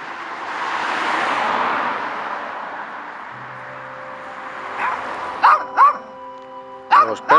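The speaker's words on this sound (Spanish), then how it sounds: "Los perros de pueblo francés están locos, como todos los perros de pueblo." Dogs in a French village in Normandy bark in short sharp yaps near the end, a few quick barks in two bursts after a long stretch of rumbling outdoor background noise.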